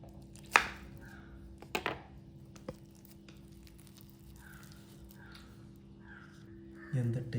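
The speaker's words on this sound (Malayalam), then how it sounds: "കട്ട് ചെയ്ത് വെക്കാം." A knife cuts through a bread cheese omelet on a board, a few sharp separate chops spaced apart, close and fairly quiet, with faint voice in between.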